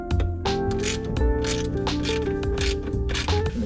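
A hand ratchet loosens the dash bolts inside a Toyota Supra during A-pillar trim work, producing loud, close bursts of rapid clicking strokes in a quick repeating rhythm, with no talk.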